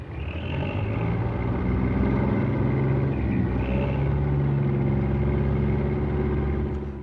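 Road traffic streams over a steel overpass at Oxford Circus in London in the 1960s. A dense, continuous rumble of car and truck engines stays loud and steady throughout.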